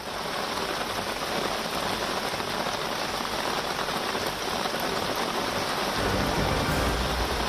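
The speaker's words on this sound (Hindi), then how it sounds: "पिछले कुछ दिनों से हो रही मूसलाधार बारिश ने समूचे महाराष्ट्र को पानी पानी कर दिया है" Heavy monsoon rain in Maharashtra pours steadily, a dense unbroken hiss drumming on surfaces, loud and constant throughout with no voices.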